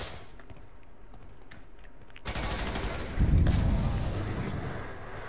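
Video game gunfire from F.E.A.R. 3 starts abruptly as a dense, rapid barrage, swelling louder with a heavy low boom partway through and continuing to the end.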